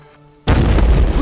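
A bomb goes off suddenly after a quiet moment in a war drama, a loud, close blast with a deep rumbling roar that keeps going.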